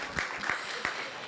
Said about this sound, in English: Oh, yeah, some applause.